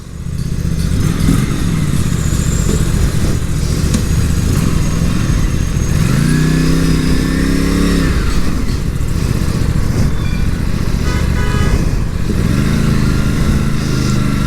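An Aprilia RS457 motorcycle being ridden, its engine droning loud and close throughout, with a rising rev in the middle and a couple of smaller throttle swells, wind rushing beneath, no voices.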